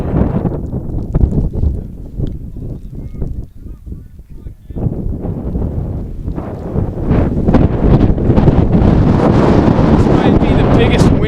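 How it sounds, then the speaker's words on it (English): Strong wind gusts buffet the microphone at an outdoor high school varsity baseball game in the rain, a steady roaring rumble that builds louder toward the end. "might be the biggest wind gust that has happened so far this afternoon"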